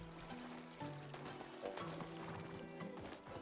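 A horse in the video game Medieval Dynasty swims through water, its hooves splashing and clopping steadily alongside running water, sounding close but quiet.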